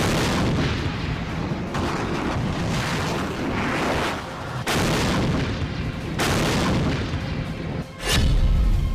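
HIMARS multiple rocket launcher firing in the Kherson region of Ukraine, heard as a loud, continuous roar of blasts and rushing noise with repeated surges and a heavy final boom.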